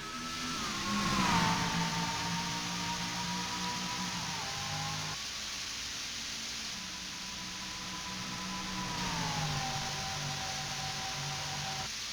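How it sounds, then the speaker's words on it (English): Race cars in a video game roar at speed around Pikes Peak International Raceway, sustained engine whine rising and falling as cars pass, with pitch sweeps as they shift and corner. "Storming down the backstretch at over 160 miles an hour, Ryan Acosta takes the lead."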